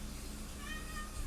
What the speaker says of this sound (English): the cat's being a pest